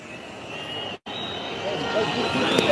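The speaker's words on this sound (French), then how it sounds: "Une foule compacte et calme de manifestants qui se dispersent brusquement au son de ce qui semble être un avion qui atterrit." An alleged sonic weapon at a Serbian protest, likened to a landing aircraft, makes a loud, steady, broadband roar with a piercing high whine. It runs almost unbroken, cutting out briefly once, and swells slightly toward the end.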